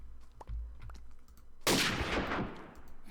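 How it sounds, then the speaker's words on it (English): A single loud sniper rifle shot in modded Minecraft, a sharp blast followed by a decaying echo, preceded by a few faint clicks and quiet ambience. "This sniper rifle kind of sucks."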